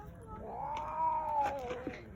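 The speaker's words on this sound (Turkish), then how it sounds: "kedi kavgası bekle" Cats fighting outdoors, yowling and caterwauling in a long rising and falling wail that swells near the middle, with people murmuring faintly in the background.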